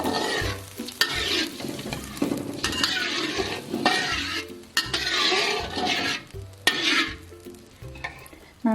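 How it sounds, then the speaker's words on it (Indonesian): Anchovies frying in a pan for an Indonesian teri arsik dish are stirred repeatedly, with steady sizzling broken by scraping and clinking of a utensil against the pan in an uneven rhythm. "diaduk-aduk supaya masaknya merata"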